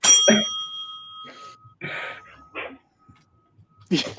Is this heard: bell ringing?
yes